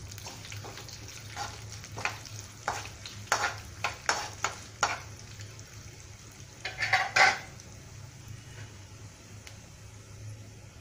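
Nigella and cumin seeds sizzling in hot oil for litti chokha, with a spoon clinking and stirring against the pan in a series of sharp strikes over a low steady hiss.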